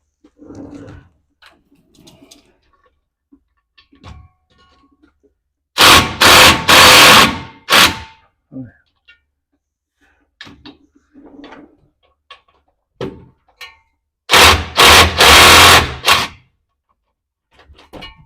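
An impact wrench loosens the u-joint bolts on a 2009 Chevy 2500HD pickup with an 8-foot bed: two loud, close bursts of rapid hammering about eight seconds apart, with quiet clanks and handling noises between them.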